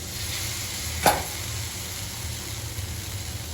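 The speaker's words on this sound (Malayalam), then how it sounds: "അതും കൂടി ഇട്ടിട്ട് നല്ലപോലെ അങ്ങ് വഴറ്റിയെടുക്കാം" Tomato sautéing in a pan for a mushroom roast, a steady low sizzle with a single brief scrape or stir near the start, then continuing quiet frying alone.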